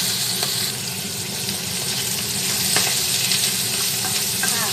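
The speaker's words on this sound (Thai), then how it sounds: "ผัดให้พอยุบค่ะ" Glass noodles being stir-fried in a pan, a dense, loud sizzle with occasional spatula scrapes, steady throughout with no voices.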